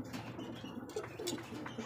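Pigeons of the racer type at a bird market coo softly in a short quiet burst of low throaty calls over faint background noise.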